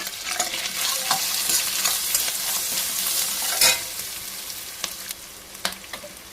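An ivy gourd and tomato curry sizzles in hot oil with curry leaves and turmeric, and a spoon scrapes and stirs through the pan in a constant, close crackle.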